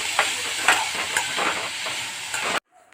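Chickpeas frying in a pan, with a steady hiss and sizzle and a few soft stirring scrapes, close and even in level, then the sound cuts off abruptly near the end.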